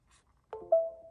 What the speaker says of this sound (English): Windows makes a chime